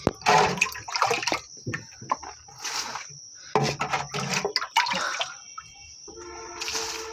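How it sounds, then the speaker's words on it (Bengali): Water pours and splashes in short bursts close by, with drips and quieter pauses in between. "এখন আবার নতুন করে পানি দিব"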